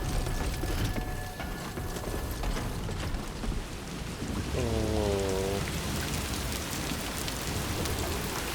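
Steady heavy rain hisses throughout in the video game Death Stranding 2, with a brief tonal whine rising out of it midway; no voices.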